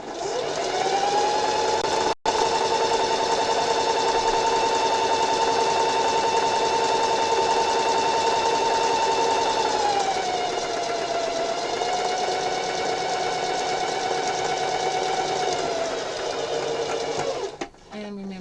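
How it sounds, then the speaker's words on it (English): A sewing machine stitches a hair scrunchie in a long, steady run at close range with a constant mechanical hum, briefly cut off near the start, then slowing and shifting pitch before halting at the end. "To back stitch at the beginning and end of your stitching."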